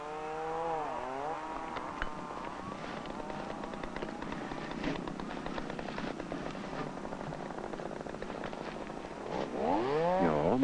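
A chainsaw with heated, vibration-damped handles, running close and loud, its engine pitch rising and falling as it revs and cuts, with a strong rev-up at the end.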